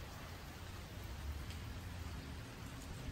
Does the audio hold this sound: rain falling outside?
yes